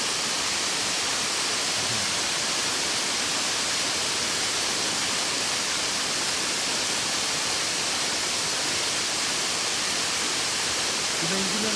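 A waterfall on a river island on the Thiba River in Kirinyaga gives a constant, close, full roar of rushing water that never lets up.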